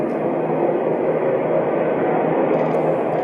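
Military aircraft flying over, a dense, steady roar with no voices over it.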